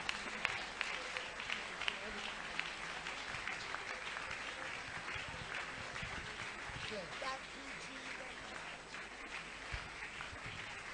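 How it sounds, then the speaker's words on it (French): A church congregation applauds in celebration of Jesus, a dense, continuous wash of many hands clapping in a large hall, steady and fairly distant, with voices mixed in throughout. "Clap your hands, celebrate Jesus."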